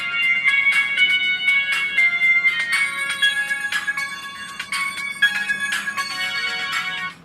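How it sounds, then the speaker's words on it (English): A mobile phone plays a bright, melodic ringtone, a quick run of chiming electronic notes that repeats steadily and fairly loudly for several seconds with nothing else over it. "Listen to this awesome ringtone."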